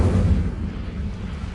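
A fire spell, Incendio, cast in the Hogwarts Legacy video game, giving a dense low whooshing burst that is strongest at the start and then settles into a steady rumbling roar with no talk over it.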